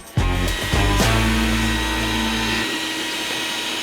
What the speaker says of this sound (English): We got the fan on